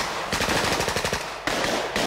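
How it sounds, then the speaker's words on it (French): Rapid bursts of machine gun fire from a 1976 French comedy film trailer, two loud rattling volleys with a short gap between them, dense and continuous with no talk. "Ou des braconniers au fusil mitrailleur."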